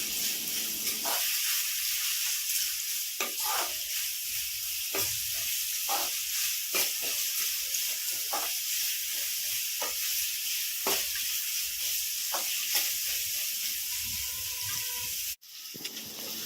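Onion pieces and a little turmeric sizzle steadily in a hot pan, a continuous close frying hiss broken by repeated scraping stirs of a spoon, ending with a sudden cutoff.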